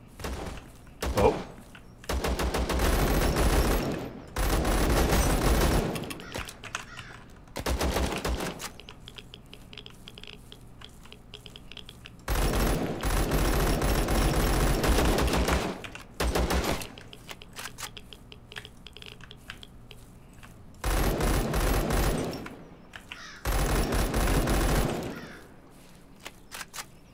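Automatic fire from the FNAZ rifle in Zero Sievert, a survival shooter, rattling out in several loud sustained bursts separated by short pauses, with a louder barrage near the end.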